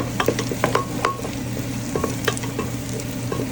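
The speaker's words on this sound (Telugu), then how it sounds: "ఇప్పుడు వీటిల్లో మనం పక్కన పెట్టుకున్న మిరపకాయలు వేసుకోవాలి." Chillies tossed and stirred in a frying pan for a village-style mutton curry, with repeated clattering scrapes over a constant sizzle and a low steady hum beneath.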